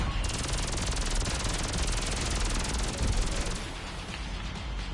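Automatic gunfire in GTA 5 Online, a dense rapid machine-gun burst lasting several seconds, loud and close, then fading into a rumbling ambience.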